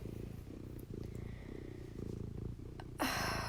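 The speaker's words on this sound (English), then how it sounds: "sorry if you hear my cat in the background" A cat purrs steadily and close up in a quiet room, a soft, even rhythmic rumble that ends with a sudden, brief burst of broad hissing noise.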